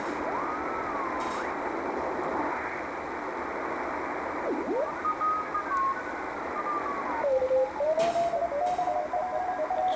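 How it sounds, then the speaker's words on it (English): Morse code CW signals are tuned in on an amateur radio receiver and sound as whistling tones that slide in pitch as the dial moves. Steady hiss runs underneath and short bursts of static break in. "that's how you'll hear the tones of the CW signals"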